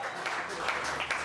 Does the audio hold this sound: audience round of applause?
yes